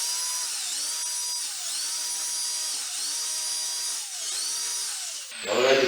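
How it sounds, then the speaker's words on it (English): A power drill fitted with a 3/16 Tapcon concrete bit bores into concrete, its whine rising and dipping in repeated cycles as pressure is applied, steady and close, ending with a brief rougher burst. "It's very easy to drill with a bit that is a concrete bit in a concrete."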